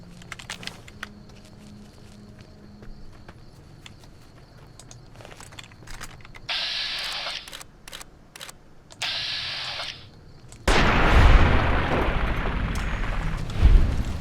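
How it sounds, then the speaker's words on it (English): In Fallout New Vegas, in the Honest Hearts cave area, a sudden loud explosion booms and rumbles through the final seconds, following quieter game clicks and bursts of effects. "Explosion."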